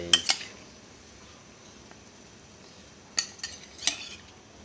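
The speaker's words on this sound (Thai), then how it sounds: "เราก็ใส่ตีนไก่ลงไปเลยนะครับ ตีนไก่" A few metallic clinks and splashy clatters come at the start and again near the end as chicken feet are dropped into a boiling pot of Northern Thai noodle soup broth, separated by quiet simmering.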